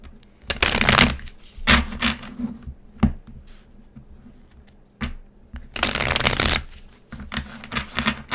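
Cosmic Tarot cards being shuffled by hand, with two long riffling bursts and several shorter flicks and taps between them, close and fairly loud, with no talking.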